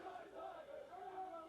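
A wrestling crowd at a state championship match roars and shouts continuously, a dense, steady wall of cheering voices with no pauses.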